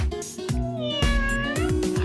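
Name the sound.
cat meowing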